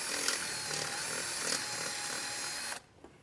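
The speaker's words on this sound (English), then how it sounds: "once your hole is drilled" A power drill with a 3/8 inch bit whirs steadily and loudly up close, boring a hole in a 2018 Jeep Grand Cherokee, then cuts off abruptly near the end.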